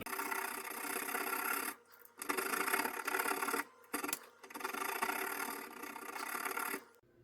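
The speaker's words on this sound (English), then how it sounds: "I have my nice file, and I can just take some material off this." A metal hand file rasps back and forth across a 1911 pistol's steel thumb safety, loud close strokes in three long bursts with brief pauses between them.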